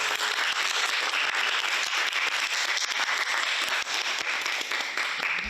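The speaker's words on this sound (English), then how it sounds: "So anyway, big applause to welcome." A lecture audience at Aalto University bursts into sustained, dense applause to welcome a guest lecturer, with many hands clapping evenly and loudly throughout.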